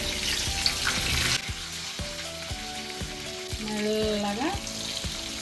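Fish pieces sizzle steadily in hot oil in a pan, with a series of regular utensil taps and clicks as the pieces are turned, and a brief spoken word.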